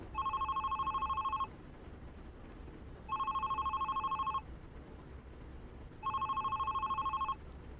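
A telephone rings in the video game The Red Strings Club, three evenly spaced electronic ring bursts, each lasting over a second with pauses between, clear and alone over quiet background.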